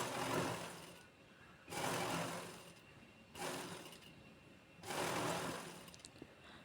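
A sewing machine stitches a princess-cut blouse in three separate runs, each a whirring burst of about a second and a half with short quiet pauses in between, heard alone at close range.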